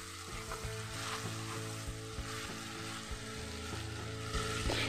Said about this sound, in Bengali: এবারে টমেটো কুচিগুলোকেও আমি আলুর সাথে মিডিয়াম ফ্লেমে 1 মিনিটের মতো ভেজে নিচ্ছি।